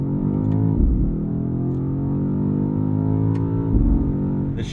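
A BMW XM SUV accelerates hard under manual paddle shifting, its engine a loud, steady low roar close up, broken by two quick gear changes where the pitch drops briefly before climbing again.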